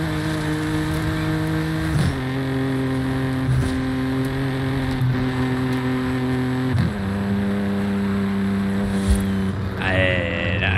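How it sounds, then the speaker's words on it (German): BMW M4 engine in Forza Horizon 5, a loud steady drone climbing in pitch through several upshifts with short breaks at each gear change, close and continuous. "der Klang beim Schalten ist schon geil"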